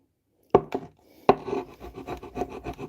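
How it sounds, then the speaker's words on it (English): A chisel scraping old paint off a wooden cabinet door: two sharp initial strikes followed by a run of quick rhythmic rasping strokes, close and moderately loud, with no talking. "this chisel just takes it off and smooths it out really quick"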